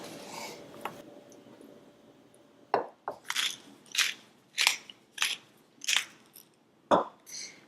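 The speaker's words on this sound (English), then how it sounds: "I'm just going to chop it into pieces around the same size of the asparagus." A knife chops a cleaned, dried salmon fillet into asparagus-sized pieces on a board, giving about eight crisp, fairly evenly spaced cuts after a quiet start, close and alone.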